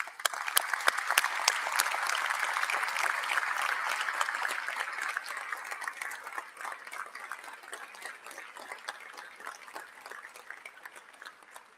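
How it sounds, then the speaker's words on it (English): Applause at a foundation dinner as scholarship recipients stand, many hands clapping with crisp nearby claps, strong at first and then gradually thinning and fading toward the end. "Stand, and let's give them applause."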